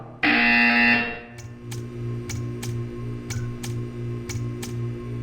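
A loud, sustained electronic buzzer tone in Portal 2 blares for about a second, then cuts off, leaving a low hum with a series of sharp clicks.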